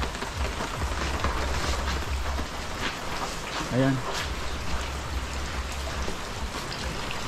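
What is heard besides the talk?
steady rain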